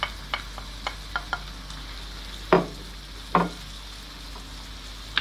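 Bell peppers frying with lamb in a pan for fajitas, a steady low sizzle broken by sharp utensil taps and two louder scraping strokes, up close.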